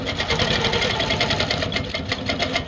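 A sewing machine runs fast and close, stitching through a quilt while basting fabric, its needle producing a rapid, even mechanical chatter throughout.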